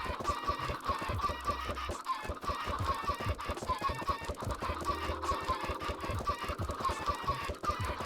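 Minecraft chickens cluck and squawk repeatedly in a hardcore survival game, with several overlapping bird calls over a steady backdrop of game sounds and no talking.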